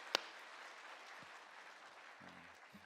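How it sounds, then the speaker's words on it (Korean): A church congregation applauding the Hallelujah choir at a New Year's Sunday service, a faint, distant patter of clapping after one sharp near clap, with a few low thumps toward the end. "다시 한번 우리 뜨거운 박수 한번 부탁드리겠습니다"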